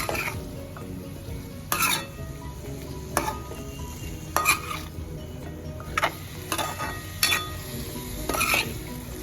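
Pumpkin pieces being stirred through a hot tempering in a pan for a pumpkin sabji: a continuous close sizzle punctuated by roughly seven distinct scraping strokes of the spatula, spaced every second or so, with no talking.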